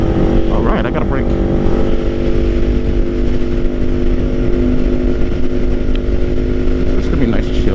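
A 2024 Kawasaki Ninja 500 KRT SE being ridden on a road toward a lake: a loud, steady engine drone with constant wind rush, held at an even cruising pitch throughout.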